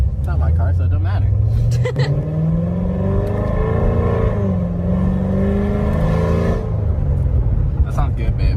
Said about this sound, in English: You can actually hear when it downshifts.